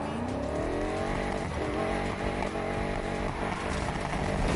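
A tuned, high-horsepower drift car in a racing game spins its wheels, the engine revving hard and steady with faint tire squeal, no voices over it.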